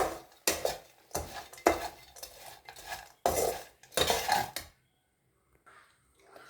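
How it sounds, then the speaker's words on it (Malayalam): A spoon stirs fish pickle with vinegar in a pot, making a run of close, rhythmic scraping and clinking strokes that stop abruptly, followed by near silence and a faint high tone. "നമുക്കതിലേക്ക് കുറച്ച് വിനാഗിരി ഒഴിച്ച് കൊടുക്കാം. അത് നല്ലപോലെ നമുക്ക് മിക്സ് ചെയ്യാം"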